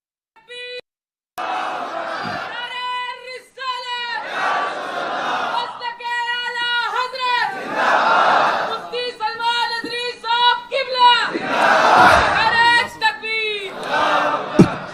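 A large gathering at a religious sermon chants slogans in loud, rhythmic bursts, many voices rising and falling together in repeated waves across the hall.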